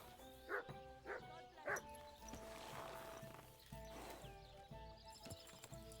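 In the medieval world of Kingdom Come: Deliverance II, hooves clip-clop at a walking pace beside a few sharp dog barks, with a horse snort or whinny mixed in and a voice talking faintly underneath.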